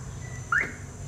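A flip-key remote alarm on a 2019 Hyundai Accent gives a single short rising electronic chirp on locking, clear and close against a quiet low hum.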